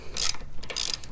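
Wrench loosening a nylock nut on a Royal Enfield Hunter 350 motorcycle, two short bursts of ratcheting clicks close by, with no talking.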